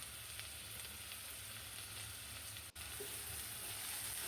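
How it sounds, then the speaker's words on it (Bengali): Onions with ginger-garlic paste and salt fry in a pan while being stirred, making a continuous soft sizzle with a brief drop in sound partway through and no talking. "এখন নেড়ে চেড়ে পেঁয়াজটাকে ভেজে নেব"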